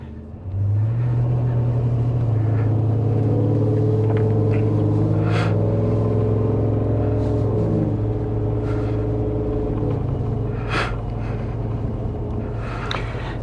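Supercharged 2024 Ford F150 4x4 with a Stage 2 Whipple-boosted 5.0L V8 accelerating hard during track testing, a loud sustained engine roar rising in pitch through gear changes, heard from inside the truck.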